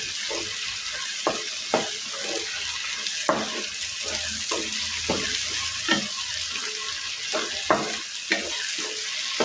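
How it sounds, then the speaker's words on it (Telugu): Chopped tomatoes sizzle in a pan for egg curry, a close, steady frying hiss punctuated by repeated sharp clicks and scrapes of stirring, with no talk. "మీడియం సైజు రెండు రెండు టమాటాలు తీసుకొని కట్ చేసుకుని వేసుకోవాలి ఇవన్నీ మొత్తం మెత్తగా అయ్యే వరకు మగ్గించుకోవాలి"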